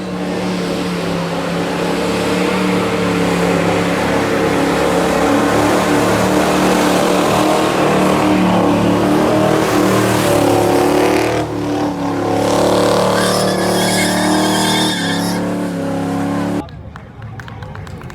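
A Ford Mustang engine revs hard at a car show, a loud sustained roar with rising and falling pitch that overlaps crowd noise and voices, then cuts off sharply near the end.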